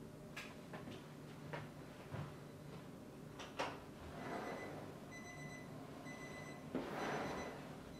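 A Thermoworks Signals BBQ thermometer sounds its high-temperature alarm over a smoker running too hot, giving short, faint repeated electronic beeps in a quiet outdoor setting, mixed with scattered clicks and knocks.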